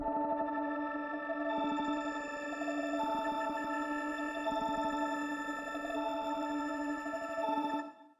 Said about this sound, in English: it gives it the grainy, like high-pitched flutter type effect that you hear in a lot of Nardo stuff